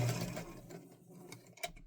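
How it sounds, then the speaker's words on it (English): A domestic sewing machine back tacks through fabric while a zipper pouch is sewn, a soft, quick mechanical whirring and rattle that stays close and fairly quiet, with a small click at the end. "Turn my fabric, and I'm going to back tack again."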